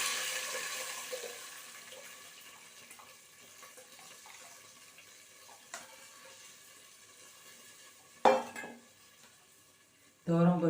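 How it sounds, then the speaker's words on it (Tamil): Buttermilk is poured into a pan of sautéed sundakkai (turkey berries) for morkuzhambu. A soft wet sizzle and liquid sound fades gradually, and sharp louder splashes or clatters come near the end. "திட்டமாக அந்த மோரை இதோட சேர்த்துடலாம்."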